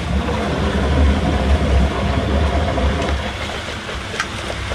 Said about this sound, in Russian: Теперь мы включаем наш бустер.